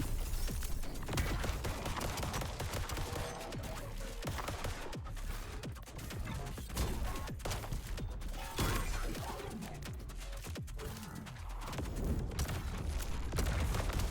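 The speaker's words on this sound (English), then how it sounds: "That missile strike's kind of hard to aim." Dense, continuous video-game combat noise from Void Breaker, an action roguelite shooter, with a missile strike's explosions mixed into rapid gunfire and mechanical clatter that stay loud and busy throughout.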